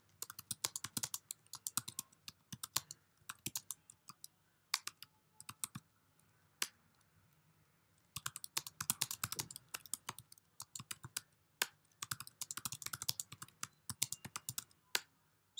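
Bursts of quick, crisp computer keyboard typing in the Vim editor on Linux, clustered keystrokes separated by short pauses, close and fairly quiet with no talking.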